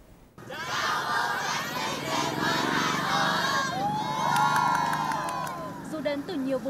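A large crowd of Blackpink fans cheers and shrieks: dense, continuous shouting and high-pitched screams fill the whole stretch at close range, with voices clamoring throughout.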